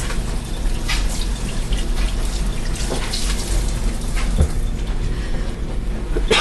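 Tap water pouring steadily into a sink while a beef roast is rinsed under it, a loud close continuous gush with small splashes and no speech.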